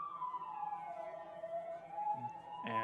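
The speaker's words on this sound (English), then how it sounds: "we got the sound of sirens going on" Police sirens wail in a long, slow rising and falling tone at a moderate distance, fairly faint, with a brief burst of other noise near the end.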